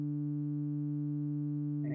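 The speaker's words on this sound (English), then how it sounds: "So I'm basically just adding those two sine waves together." Two pure sine tones an octave apart, summed into one steady electronic hum, hold level and loud for about two seconds before a brief noisy click at the end.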